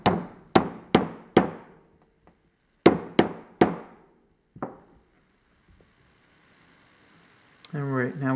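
A 1/16 pin punch is struck with a hammer to drive a pin out of a Springfield XD pistol slide, giving seven sharp metallic taps in two bursts, then a brief rattle near the end.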